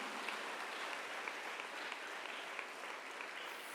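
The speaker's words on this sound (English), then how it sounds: "Dear students, please give him a thunder clap as a sign of love and" Students at a school investiture ceremony give a guest a sustained round of applause, a dense, even wash of clapping from a large crowd heard at a moderate distance without speech.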